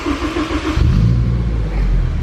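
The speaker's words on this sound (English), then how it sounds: "Car starts up great, like beautiful." A turbocharged Honda S2000 engine fires up and settles into a loud, steady idle with a deep low rumble, close by and alone.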